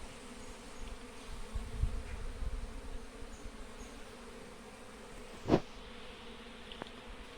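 Cavity-nesting bees buzz faintly as they circle outdoors, a soft drone with one brief louder pass near the middle.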